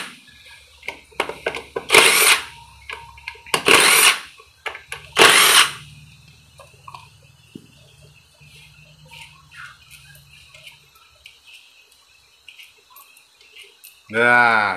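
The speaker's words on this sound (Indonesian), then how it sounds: "setelah itu kita buka dulu baut ini baut pengisi pompa oli" A power tool whirs in several short bursts while the oil pump filler bolt is loosened, with a voice talking between bursts, faint ticking and clicking, and a final louder whine at the end.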